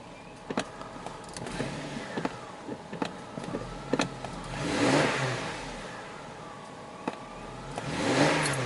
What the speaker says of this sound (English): I'm having to mash the accelerator just to get any kind of response.